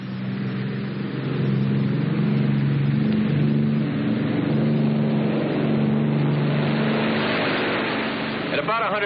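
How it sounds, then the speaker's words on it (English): Douglas A-26 Invader piston engines roar steadily at takeoff power, loud and continuous with a droning tonal hum, under a voice. "I'll make a normal takeoff and then chop the right engine at single-engine airspeed of 135 miles"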